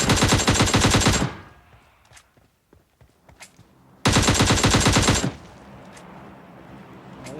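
Bots shot down in a video game: two long bursts of rapid automatic gunfire, loud and close, with scattered faint clicks and distant shots in the quiet gap between them.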